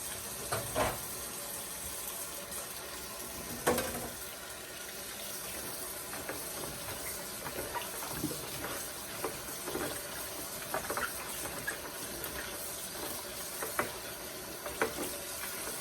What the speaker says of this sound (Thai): ต้องล้างมะนาวด้วย